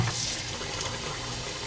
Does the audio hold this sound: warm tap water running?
yes